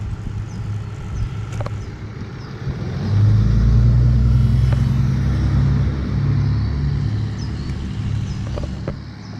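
A car on a road beside a recreational trail rumbles steadily nearby as it slows to turn and drives past, its engine drone swelling in the middle and easing off, with no talk over it.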